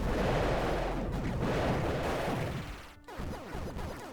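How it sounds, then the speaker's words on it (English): Rapid gunfire from the Axiom Verge video game plays as a dense rattle of shots, loud and continuous, then briefly cuts out before resuming. "enemies take a lot of gunfire before they go down"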